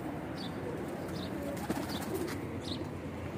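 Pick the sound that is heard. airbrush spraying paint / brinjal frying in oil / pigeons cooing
pigeons cooing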